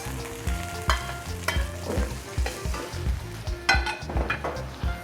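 White cabbage and noodles frying in a pan, with a steady sizzle under repeated clinking spatula strokes and stirring scrapes in an uneven rhythm. No voices.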